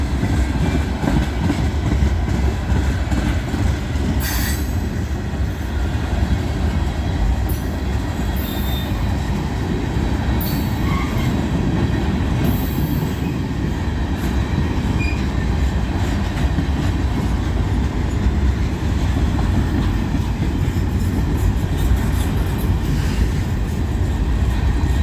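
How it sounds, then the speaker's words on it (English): A stalled freight train creeps along the rails on a hill in Abbeville, a steady loud rumble of cars with sharp metallic wheel squeals breaking through at intervals, continuous and close throughout. "Train's hanging way out past the signals down there."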